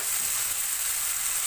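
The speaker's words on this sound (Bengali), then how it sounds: "এটাকে আমি খুব ভালো করে সুন্দর করে ফ্রাই করব।" Marinated chicken fries in a pan, a steady bright sizzle of hot oil, even and continuous for a moment with no voices.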